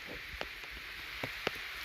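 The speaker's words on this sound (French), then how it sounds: "la pluie fait son grand retour." Heavy rain pours steadily in a village beside a church, a dense, even hiss with a few sharper drops tapping nearby; faint and continuous, with no voices.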